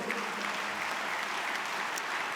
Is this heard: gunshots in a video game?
no